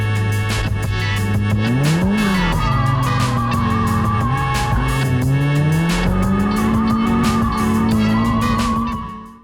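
A stock Mazda Miata drifting on a track, its engine droning and rising in pitch under long, continuous tire squeals, loud and sustained throughout.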